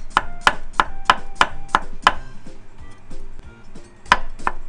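A knife slices a cucumber thinly on a cutting board, crisp rapid chops in an even run, a short pause, then a few more cuts close by, with no talk.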